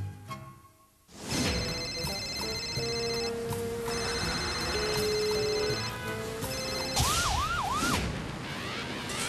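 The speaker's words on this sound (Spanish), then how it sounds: "Yo perdí un teléfono celular sobre la avenida Las Heras. Acabo de escucharlo sonar." A mobile phone rings with a bright electronic melody, repeating steady tonal beeps at close range, with no voices over it.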